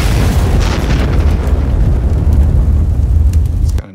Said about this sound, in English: the airy sounds give you an in-your-face kind of feel, and the low booms just give it a meteor feel to the whole thing